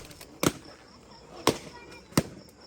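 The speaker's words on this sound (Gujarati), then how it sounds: "મારા બર્થડે ના ફુગા મેચ ફોડ નાખ્યા" Birthday balloons burst in three sharp, loud pops spaced about a second apart over a quiet background.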